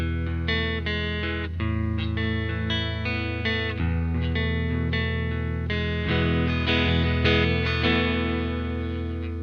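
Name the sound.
clean electric guitar tone with hall reverb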